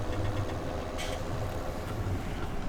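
Massey Ferguson tractor engine idling in Farming Simulator 17, a loud, close, steady low chug with a brief hiss partway through and no talking.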